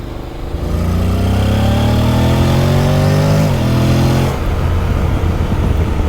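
A 2024 Honda X-ADV motorcycle engine accelerates hard and close, its loud droning note climbing steadily in pitch for several seconds before a gear change and continued pull.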